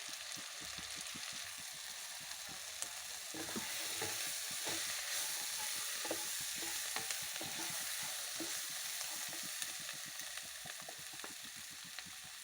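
Chili powder and turmeric fry in a pan for an aloo palak curry, stirred steadily with a spoon; a continuous close sizzle runs throughout, with scraping clicks of the spoon against the pan.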